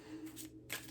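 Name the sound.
shuffling a deck of cards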